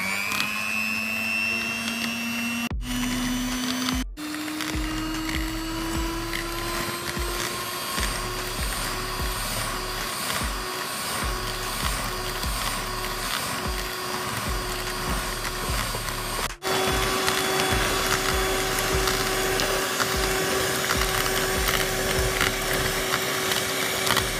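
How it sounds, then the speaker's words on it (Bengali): An electric beater whirs steadily as it whips egg and sugar, a loud, constant motor whine with a rhythmic rattle of the beaters against the bowl, briefly cutting out and restarting a few times. "এখন আমি এটিকে বিট করে নিচ্ছি"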